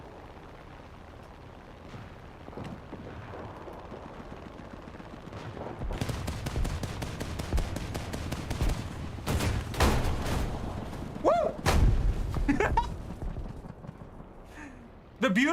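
Halo video game combat: Spartan laser blasts and gunfire erupt into dense, rapid bursts and booming explosions after a quieter opening, with a player's voice calling out over the din.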